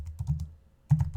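Computer keyboard keys tapped to type a Google search, in two quick close bursts of keystrokes with a short pause between them and no talking.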